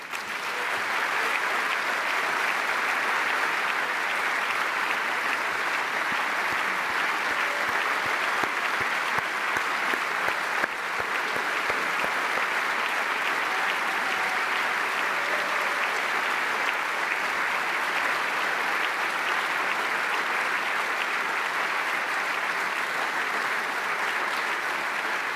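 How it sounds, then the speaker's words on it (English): Sustained applause from a large party-congress audience in Rome, a broad even roar of clapping that stays loud and unbroken for the whole stretch, distant-sounding and without speech over it. "Listen to these applauds and never forget it."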